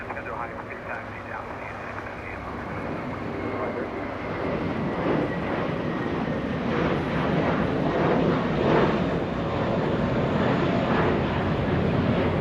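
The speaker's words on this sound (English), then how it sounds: "Qantas 93, QF93. It's a Dreamliner arriving a little late today" A Qantas Boeing 787 Dreamliner arriving at Los Angeles International Airport at night, its engine roar building steadily and holding loud and broad throughout, with a faint background voice.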